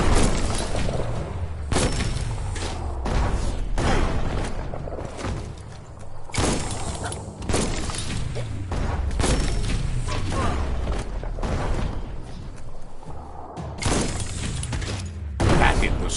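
Bomb lobber weapon blasts in the video game Biomutant, repeated heavy explosive thumps and booms at irregular intervals over a busy, loud background of combat noise.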